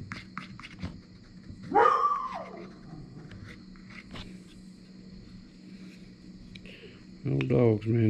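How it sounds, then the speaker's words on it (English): Old dogs outdoors let out a drawn-out, howling bark and later a short burst of barking. Both come from a moderate distance over a quiet background. "Old dogs, man, they keep the critters away."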